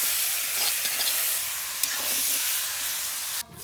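Chillies fry in a pan of hot oil with a constant bright sizzle and hiss. The sizzle cuts out abruptly near the end.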